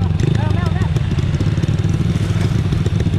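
A Motor Ace 125 motorcycle engine idles close and loud with a steady low throbbing rumble, while a person speaks over it briefly near the start.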